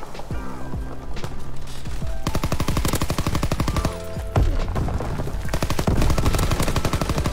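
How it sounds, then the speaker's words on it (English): Rapid automatic gunfire in the shooter game Call of Duty WW2, dense loud rattling bursts continuing almost without pause, with a brief lull midway. "The guns actually feel a lot better in this game than we actually thought."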